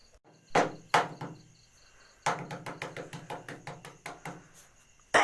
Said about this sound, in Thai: ตอกไข่ไม่แตก